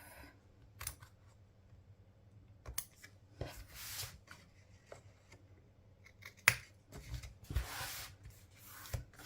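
Scissors snip and trim paper for a bullet journal page in close, short cutting strokes, mixed with rubbing and rustling of the paper, and no voices.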